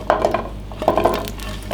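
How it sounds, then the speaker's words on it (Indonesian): Spatula scraping and clinking against a frying pan while shallots, garlic, dried shrimp, chilies and candlenuts are stirred, a few quick metallic taps in two short bursts with faint background. "Ini semuanya kita tumis dulu."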